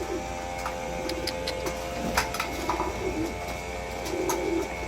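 Young breeder pigeons coo softly while feeding, low burbling calls repeating close by over faint ticking and rustling.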